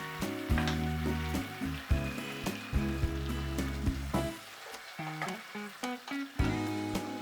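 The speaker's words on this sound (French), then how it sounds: "Porter à ébullition, mettre les crevettes, laisser cuire une petite minute" Shrimp simmer in a boiling sake sauce, giving a steady soft sizzle and bubbling throughout, partly covered by louder tonal background music.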